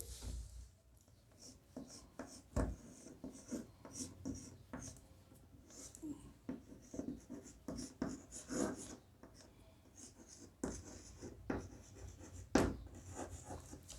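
A teacher writing a neopentyl bromide chemistry formula on a board during a B.Sc. alkyl halides lesson: close, irregular bursts of scratchy strokes and taps, uneven in rhythm and moderately loud, with brief pauses between marks and no talking.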